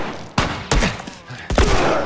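Gunshots in The Last of Us video game: three loud, sharp blasts spaced unevenly over about two seconds, each with a booming low tail, close and dominant.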